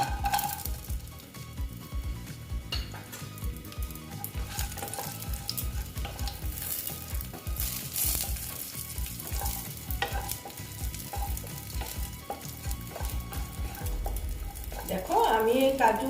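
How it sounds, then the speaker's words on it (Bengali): Cashews, other dry fruits and raisins fry in a little ghee for carrot payesh, giving a steady close sizzle broken by frequent scraping stir strokes, with a brief louder clatter near the end. "অল্প ঘি দিয়ে দিলাম দিয়ে আমি কি করব ড্রাই ফ্রুটসগুলো আমি ভেজে নেব"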